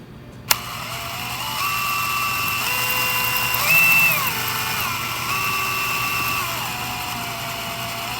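Handheld power drill spinning the speedometer drive gear of a 1967-72 Chevrolet C10 trip meter: a steady high electric whine starting with a click, pitch sagging and rising slightly as load changes, close and continuous, no talking.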